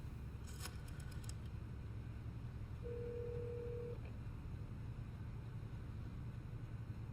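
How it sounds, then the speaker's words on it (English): A rotary phone in the video game Metal Gear Solid 3 gives a brief ring-like tone and a short steady electronic tone over a low, constant background hum. "Rotary phone."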